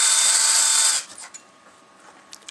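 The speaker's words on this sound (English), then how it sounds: "Cut out and drill some holes." A power drill bores holes in material for a water rocket parachute mechanism, a steady close whine lasting about a second before cutting off, followed by a few faint clicks.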